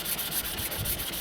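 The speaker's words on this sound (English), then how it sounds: "Ultimately, we're sanding it right back up." Steady, rhythmic sanding strokes rasp back and forth across primer putty on a model aircraft, close up and continuous, with no voices.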